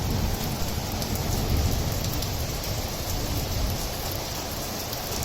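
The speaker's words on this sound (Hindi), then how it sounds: "बारिश चालू हो गई है।" Steady monsoon rain falling at Rajaji National Park, a dense even hiss of drops on surfaces that stays loud and constant throughout, with no voices.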